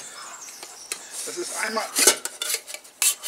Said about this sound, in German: das ist hier so ein Alu-Topf. Ich packe den mal aus